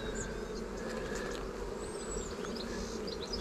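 Honeybees buzzing steadily around an open hive, a continuous close drone with individual bees passing near.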